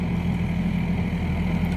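A Hyundai 55-7 excavator engine runs steadily at raised revs, a continuous close, loud low mechanical drone with no talk over it.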